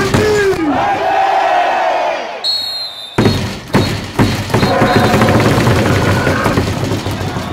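A stadium crowd at a KIA Tigers baseball game at Gwangju Champions Field roars a loud chanted cheer after an announcer's lead-in, with rhythmic bursts of massed voices and thumps that carry on strongly to the end.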